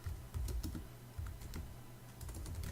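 Quiet keystrokes on a computer keyboard, a short run of soft irregular taps close by, typing text with no talking.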